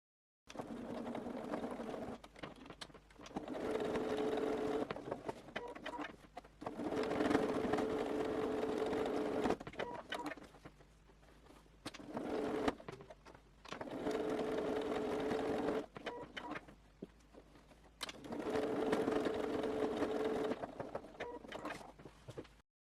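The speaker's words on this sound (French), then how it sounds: "Ici, je couds à la machine, c'est quand même plus rapide." A sewing machine stitches fabric for a shoe bag in several quiet, steady runs of whirring, broken by short pauses.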